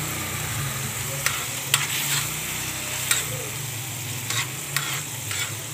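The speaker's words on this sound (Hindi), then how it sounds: "तो जी ये मैंने तवे पे 2 चम्मच घी डाला है और अब इसके अंदर मैं ये खोया ऐड करूंगी" Khoya frying in two spoons of ghee on a griddle, giving a steady sizzle with occasional stirring clicks and scrapes; soft background hum and no talk.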